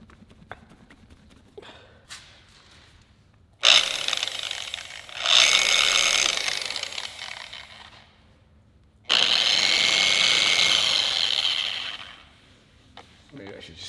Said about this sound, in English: we're gonna hit it with some heavy cut compound and with a polisher